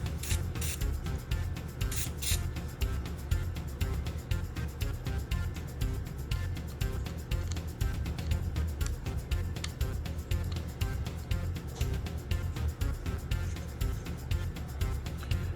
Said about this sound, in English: I'm also greasing the wheel as well.